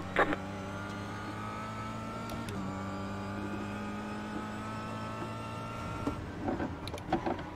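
A car passes on the right with a steady, droning engine hum that shifts in pitch partway through. It then fades into quieter rustling and a few brief knocks, with no talking.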